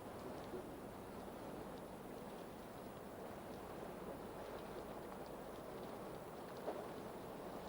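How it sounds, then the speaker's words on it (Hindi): Steady patter of rain setting in, a soft, even hiss of falling water on surfaces, continuous and fairly faint throughout with no voices. "बरसात शुरू हो गई है।"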